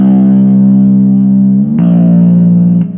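A sustained, heavily distorted electric guitar chord rings out with a long reverb tail, then shifts to a new chord that holds until the end.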